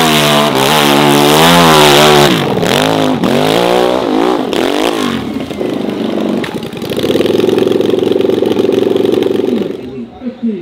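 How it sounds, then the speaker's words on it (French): A big-engined motorcycle at the La Bresse hill climb revs hard with rising and falling pitch sweeps, then settles into a sustained roar before cutting off, with a voice speaking over part of it. "Attention, la moto."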